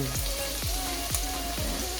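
Garlic and onion frying in a hot pan for a beef steak dish, a steady loud sizzle with small crackles and a few sharp pops, no voices.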